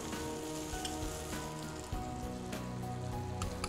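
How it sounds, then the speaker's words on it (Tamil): Chili powder frying in hot oil, a continuous soft sizzle with faint crackles and an occasional clink, steady and fairly quiet with no talk. "மிளகா பொடி இந்த எண்ணெயில் ஃப்ரை ஆகிடும்"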